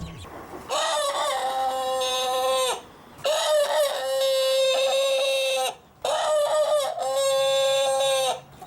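Chickens on a small vegetable farm: three long, loud rooster crows in a row, each with a brief pause between, with fowl clucking faintly underneath.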